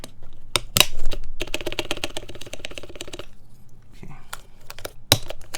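Typing on a Noxary mechanical keyboard, close clacky keystrokes in quick bursts and runs of rapid strikes with short pauses, and a voice speaks briefly.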